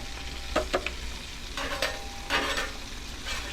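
Mushrooms sizzling in oil on a griddle, a steady crackle broken by a few sharp scraping and stirring clatters close by, with no talking.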